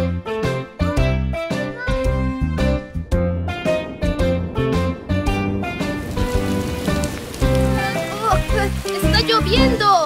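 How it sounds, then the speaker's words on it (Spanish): Rain falls in a Spanish-language children's cartoon, a bright pattering hiss rising over bouncy music and voices, growing denser toward the end. "lloviendo!"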